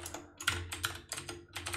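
Rapid, close keystrokes patter on a computer keyboard as code is typed, a brief burst of clustered clicks with tiny gaps and no speech.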